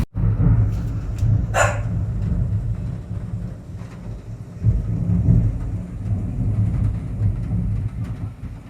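A major summer storm in Calgary with flooded streets: a dense, steady wash of heavy rain and a low rumble, with a sharp bark-like burst early on and no talking.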